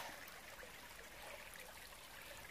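Mountain stream flowing at a footbridge, a continuous soft rushing and trickling of water, steady and fairly faint, with no voices.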